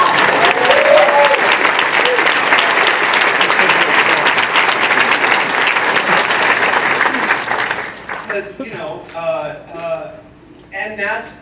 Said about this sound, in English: and yes, you can applaud that